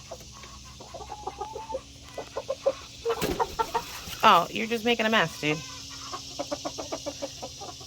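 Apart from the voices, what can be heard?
chickens clucking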